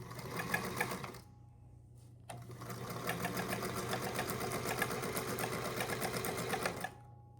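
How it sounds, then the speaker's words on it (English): A restored Singer Featherweight 221 Centennial Edition sewing machine stitching fabric, close and steady: a short burst, a pause of about a second, then a long continuous run of rapid mechanical clatter that stops abruptly. "So then you're going to put your foot down and start to sew."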